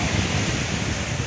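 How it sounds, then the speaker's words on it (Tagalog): Strong sea waves at the Marine Base beach in Ternate, Cavite, during a triathlon make a brief, dense wash of surf noise that stays steady and loud. "Medyo malakas po yung alon po ng dagat po ngayon."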